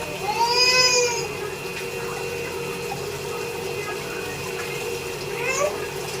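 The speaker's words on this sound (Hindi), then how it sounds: "अभी सब्जी धो लेती हूँ" Tap water running during vegetable washing in a home kitchen, a soft continuous flow with a few brief high squeaky sounds near the start and again near the end, no speech.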